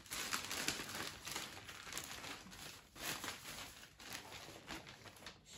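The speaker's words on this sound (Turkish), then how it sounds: "Poşeti kenara alıyorum ve bunu açıyorum." A plastic shipping bag crinkles and rustles as a package is opened, with soft irregular crackling bursts up close and short quiet gaps between them.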